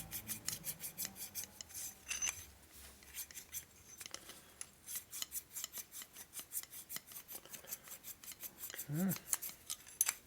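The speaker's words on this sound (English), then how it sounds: "I didn't put much lapping compound on there, so it's wearing away pretty quickly" Hand lapping of a 1961 Harley-Davidson Sportster XLCH transmission part with a thin coat of lapping compound, a steady run of close gritty rasping strokes in a quick back-and-forth rhythm, with a brief spoken word near the end.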